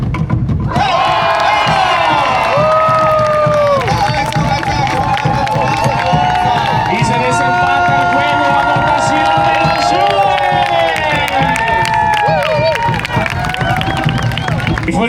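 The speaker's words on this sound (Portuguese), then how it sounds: "Fuerte el aplauso" Loud crowd cheers and applauds at a nighttime competition between teams in a Mexican town, a dense continuous roar with shouts and whistles carrying over clapping throughout.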